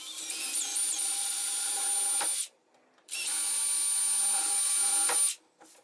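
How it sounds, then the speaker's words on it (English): Power drill with the bit from a knob and pull drilling template kit bores a hole through a cabinet. It gives two close, loud, high whining bursts of about two seconds each, split by a short pause and followed by a brief final whir. "Now we can go ahead and complete the drilling with the bit that's included in our kit."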